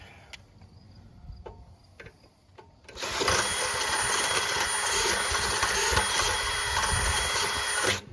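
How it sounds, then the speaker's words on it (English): A power drill bores through metal on a 1968 Sears Suburban 12 garden tractor, a few faint clicks and knocks giving way to a loud, continuous whining grind that runs steadily close by. "I'm just going to sit here and fight this hole until I break through"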